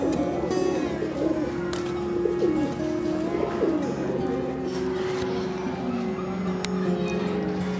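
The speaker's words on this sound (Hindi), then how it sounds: "टोंक के अंदर आप शौक करेंगे राम अवतार जी के जो पुराने कबूतर हैं" High-flyer pigeons in Tonk, India, coo repeatedly in soft, throaty bursts close by, layered over a steady background hum and faint chirps.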